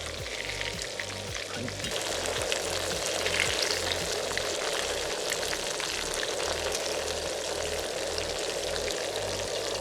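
Chicken pieces for Japanese fried chicken crackle in hot oil in a pan outdoors, a dense, steady sizzle running loud and unbroken throughout with no talking.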